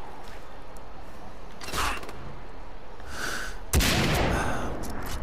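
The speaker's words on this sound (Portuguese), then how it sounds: "Quem é que tá atirando em mim?" Gunfire in the video game Far Cry 3, a few sharp, loud shots with one heavier blast near the end, mixed with game sounds and background noise.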